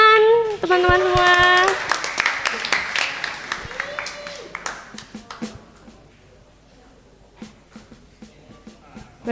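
Audience clapping at a church Christmas service and congregation anniversary celebration in Bekasi, starting strong under a sung or spoken voice, then thinning into scattered claps and a few faint voices.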